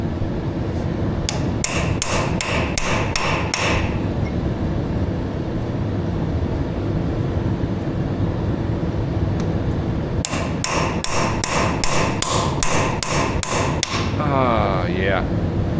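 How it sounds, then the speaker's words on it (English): Metal hammer blows strike a stuck keyway part on a truck rear axle, coming in two rapid bursts of repeated sharp clanks separated by a pause, loud and close over a steady background hum. "might need a bigger hammer for that"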